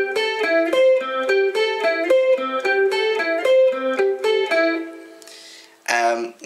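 An electric guitar with an effect on it plays the looping intro riff slowly, bright picked notes in an even repeating pattern, then a brief strummed flourish at the end.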